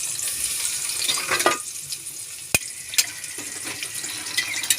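Onion and garlic sauté in a pan with a steady crackling sizzle, broken by sharp clicks and brief scraping stir sounds nearby, with no one talking.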